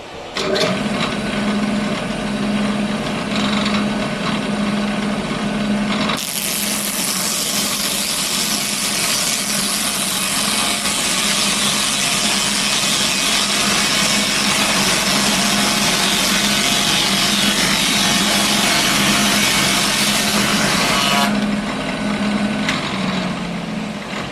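A thickness planer planing koa wood for a ukulele top and back: a loud, steady mechanical roar running continuously, with a droning motor hum underneath and a harsher cutting noise through the middle stretch.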